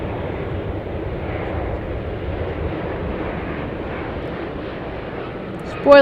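A landing airliner from Kansas City at Dallas Love Field roars with its thrust reversers deployed, a steady, dense, muffled rumble holding throughout, with a sharp bump at the very end.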